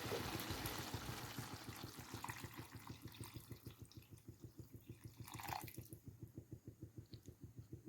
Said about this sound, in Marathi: तर पाणी टाकतो यामध्ये.